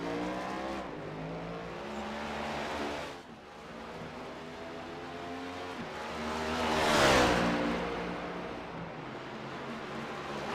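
Race cars on a Chicago street course in a racing video game, engines droning with shifting revs as the cars accelerate and brake, swelling into a louder pass late on.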